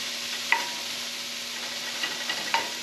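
Onions sauté in a pan under a faint, steady sizzle, with a few soft scraping taps as they are stirred and turned.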